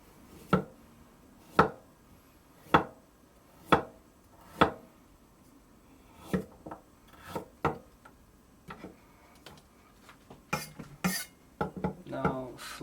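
A knife scrapes and cuts away the slightly rotten outer surface of an ingredient for mapo tofu, giving a run of distinct, close cutting strokes at a steady rhythm, followed by quicker, irregular scraping cuts.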